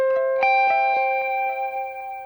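Electric guitar triads ring out through a spring reverb, a few bright strummed chords with shimmering, lingering tails that wash into one another.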